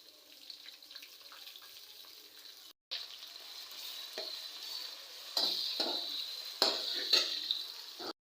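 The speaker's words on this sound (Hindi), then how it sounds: "अब हम इसमें लहसुन अदरक का पेस्ट डालेंगे ताकि वो भी साथ में ही फ्राई हो जाए" Garlic ginger paste fries with onions in a pan, a steady moderate sizzle broken by scraping stirs and louder bursts of crackling, heard close with no talk.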